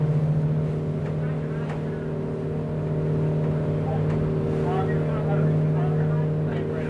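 Boat engines hum steadily on the Sassagoula River at night, a low continuous drone near at hand, with people talking faintly in the background.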